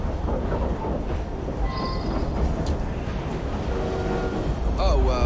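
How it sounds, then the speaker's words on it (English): A train in the video game Assassin's Creed Syndicate rumbles steadily with a dense, rattling roar, while faint tonal game-like chimes and squeals rise briefly over the noise. "Well, it's a noisy train."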